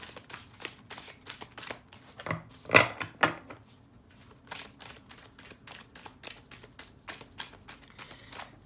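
Tarot cards shuffled and drawn in a steady rhythm of soft, quick riffling taps, with a sharper flurry of card slaps partway through; close and fairly quiet, no talking.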